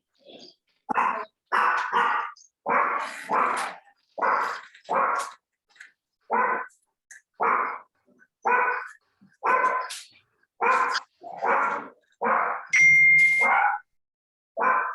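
A dog barks repeatedly indoors, a steady series of about eighteen loud, close barks spaced roughly evenly, with a brief tonal ding partway through.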